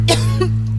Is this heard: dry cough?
yes